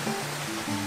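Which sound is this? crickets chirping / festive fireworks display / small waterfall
small waterfall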